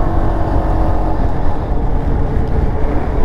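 A 2023 Peugeot XP400 GT 400 cc scooter accelerates, its engine droning steadily and loudly under heavy wind rush at riding speed, with no talk.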